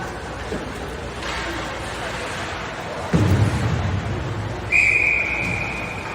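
A referee's whistle blows at an ice hockey game between the MN Moose and Blue Ox, a sustained shrill tone sounding near the end amid crowd and rink noise, with a commentator talking.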